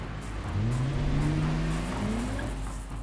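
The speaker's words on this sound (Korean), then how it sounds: "어느새 차가 트랙을 달립니다" A Nissan GT-R supercar drives on a race track, its engine note rising and sweeping as it accelerates past at moderate distance, with a faint tire squeal in the mix.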